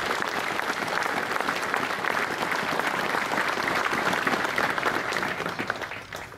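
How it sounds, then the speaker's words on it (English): Steady crowd applause at an outdoor military commemoration ceremony at Cathal Brugha Barracks in Dublin, a dense, even wash of many hands clapping for several seconds with no voices over it. "So I think a very special round of applause for them."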